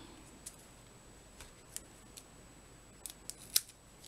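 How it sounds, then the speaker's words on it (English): Scissors snipping strips of foam adhesive for a handmade card, a few sparse, quiet crisp cuts, the last one sharper and louder, close up in a quiet room. "And just cut off some strips here and there."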